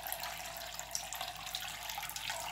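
Liquid fire cider drains from a squeezed bag during decanting: a steady, close trickle and splash that runs unbroken for a few seconds with no talk.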